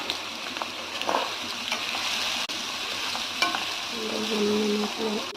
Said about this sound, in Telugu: ఈ పన్నీర్ ముక్కలు డీప్ ఫ్రై చేసుకోవాలి ఆయిల్లో